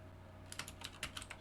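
Keystrokes on a computer keyboard, typed as a word is entered into a game development editor: a quick irregular run of sharp clicks, close and clear over a low steady hum, with no voices.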